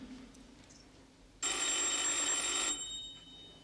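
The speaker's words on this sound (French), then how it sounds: "Pourquoi ne décroches-tu pas le téléphone?" A telephone bell rings loud and close in a single continuous burst lasting about a second, then cuts off, set against a quiet room.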